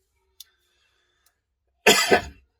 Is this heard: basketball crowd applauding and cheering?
no